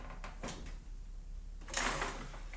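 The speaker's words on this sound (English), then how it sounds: "You're going to put your fingers in this gap and pull the drawer." The paper drawer of an Epson ET-3850 printer slides out with a couple of light plastic clicks, then a louder scraping slide, fairly close and without talk.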